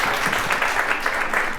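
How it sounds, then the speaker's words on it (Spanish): A room of workshop participants applauds briefly, a steady, moderately loud patter of clapping hands with no voices on top. "le damos un aplauso"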